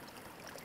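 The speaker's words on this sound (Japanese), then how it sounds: "何の変哲もない川ですが。" Natural hot spring river at Kiriake Onsen in Tsunan, Niigata, flowing with a soft, steady trickling and babbling, faint and continuous with no voices.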